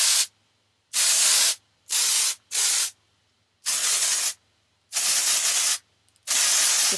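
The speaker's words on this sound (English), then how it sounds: "It is a finishing texture hairspray." Texturizing finishing hairspray hisses out in six separate bursts of roughly half a second each, close and loud, with short silent pauses between them.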